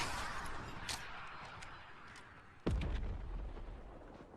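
Rocket explosions in the Fortnite video game: a faint distant blast near the start, then one sharp, loud boom midway that rumbles and decays, with no talking.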